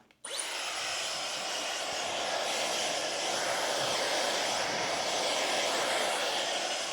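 A hair styler switches on in drying mode and blows with a steady, loud, high-pitched whooshing roar that continues unchanged.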